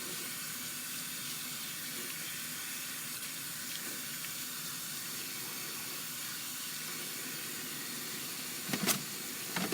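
Tap water runs steadily into a sink during hand washing, a continuous close splashing hiss with faint handling noises near the end.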